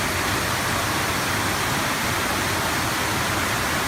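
Flood water pours like a waterfall at a train station, a loud, steady broadband roar of rushing water with no breaks.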